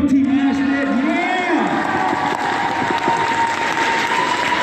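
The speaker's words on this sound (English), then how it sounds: "Make some noise for Team Ashton" A crowd at a team competition event cheers and applauds loudly for the winning team, a continuous roar of clapping, whoops and shouting voices.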